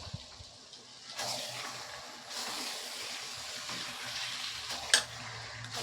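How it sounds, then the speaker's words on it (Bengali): Mutton fat frying in a pan with mutton for a Bengali mutton curry, a steady close sizzle with stirring scrapes and a brief sharp clatter near the end, with no talking. "এবার চর্বিগুলো কষানোর মধ্যে দিয়ে দেব।"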